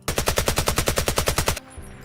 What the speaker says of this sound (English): we can actually fire it full auto, chat, no joke